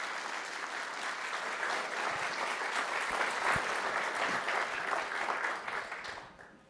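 A conference audience applauds to welcome the keynote speakers at a food symposium, sustained full-room clapping that holds steady for several seconds, then fades out.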